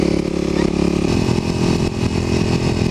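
A Kawasaki KLX250sf dual-sport motorcycle on Shinko 244 tires rides along a curvy gravel road, its engine droning loud and steady with rough crunching texture from the surface beneath.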